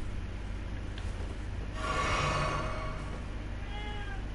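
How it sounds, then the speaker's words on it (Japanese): A cat meows in the video game Elden Ring, a couple of drawn-out mewing calls over a steady low game ambience and hum, moderately loud with no talking. "あ、猫だ。"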